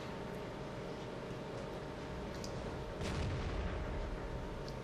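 The KV-2 tank's gun fires in the World of Tanks video game, one heavy booming shot midway through a steady rumble of engine and battlefield noise.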